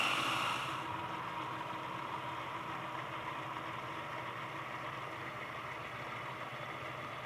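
A MOZA Slypod E motorized video slider motor runs with a steady, continuous mechanical whir and faint vibration, a brief louder hum at the start, then an even drone throughout with no talking.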